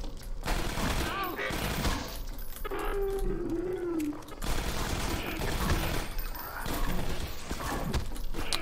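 Gunfire in Half-Life 2: Episode One comes as repeated bursts of game shots amid loud, dense combat noise, with a voice talking briefly partway through.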